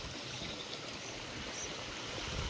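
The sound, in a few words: water leaking and trickling down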